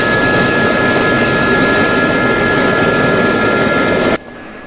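An SA-342 Gazelle helicopter in the DCS World flight simulator drones loudly and steadily with a whining turbine tone, then cuts off abruptly near the end, leaving quiet.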